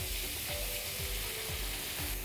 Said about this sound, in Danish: Og så vil jeg simpelthen bare tilsætte min kalvebouillon her.